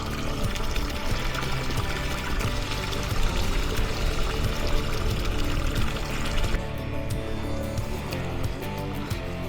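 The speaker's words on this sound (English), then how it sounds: "top them off with some water" Water pours and splashes steadily from a hose into containers being topped off ahead of an ice storm, a continuous close rushing that changes tone partway as the fill level shifts.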